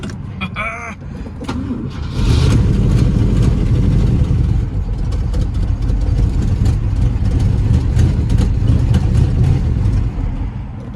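A 1966 Ford Thunderbird engine cranks over briefly, then catches and runs loudly at a steady, rough idle close by.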